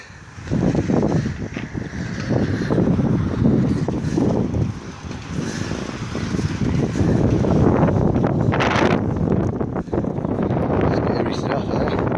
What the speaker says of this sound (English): You can probably hear, but it's a bit windy.